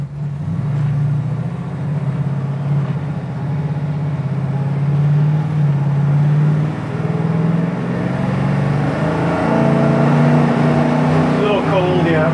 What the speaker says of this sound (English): Going through the gears